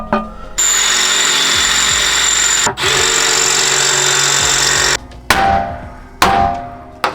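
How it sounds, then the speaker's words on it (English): Power drill grinding through pinch welds on a Mazda RX-8 body in the engine bay, loud sustained whine in long bursts with brief pauses and metallic clunks between them. "I think I'm gonna just try and drill the pinch welds, all of them off,"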